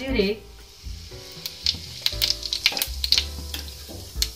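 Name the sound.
cumin seeds sizzling in hot oil in a kadai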